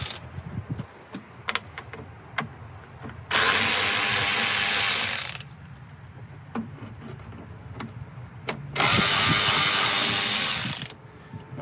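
Power tool whirring in two long sustained bursts as 10mm bolts come out of the radiator cooling fans on a 2010-2014 Subaru Outback, with scattered clicks and clanks of handling between runs.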